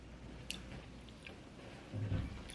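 Crunchy chocolate-coated Nanaimo bar with coconut on top being chewed, soft close bites and a louder crunching burst near the end, with no talking.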